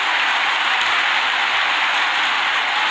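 Applause from a crowd at a political party congress closing in Indonesia, a dense, even hiss of many hands clapping that stays loud and unbroken throughout, with no speech heard.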